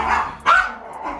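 A single loud dog bark near the middle, with a quieter yip or whimper-like sound around it, close by and with no talking.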